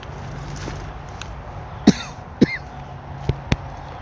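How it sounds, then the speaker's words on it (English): A person with an irritated throat coughs a few times, two sharp close coughs followed by two smaller, quieter ones, with low background hum between them. "Cough's not going to be gone for a while"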